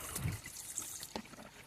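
Water trickles steadily in a small outdoor waterfall, a soft continuous splashing close by with no talk over it.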